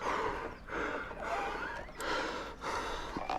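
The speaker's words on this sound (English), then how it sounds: "He's breathing hard" A frightened motorbike rider stuck on a steep hill breathes hard and fast: loud, ragged, gasping breaths repeating roughly every second, close and continuous.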